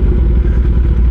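Heavy Kawasaki ZX motorcycle idling with a steady, loud low rumble while being maneuvered for parking, engine clatter continuous throughout with no voices.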